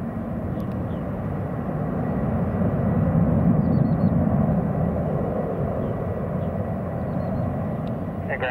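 Airliner taking off at Hong Kong Airport, a broad steady engine roar that swells toward the middle and then holds, heard from a distance with faint tonal chirps over it.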